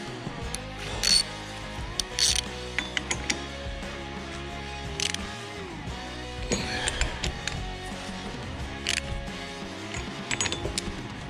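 A hand ratchet clicks in quick bursts while tightening power steering pump bolts on a 2003 Subaru Outback, close and fairly faint, with intermittent metallic clinks and shuffling between runs of clicks.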